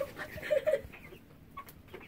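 A few soft clucks from chickens nearby, brief and fairly quiet, followed by faint farmyard background sounds.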